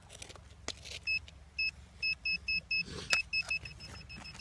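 Metal detector searching for militaria in a river, sounding a run of short, evenly pulsed electronic beeps over faint background noise and handling clatter.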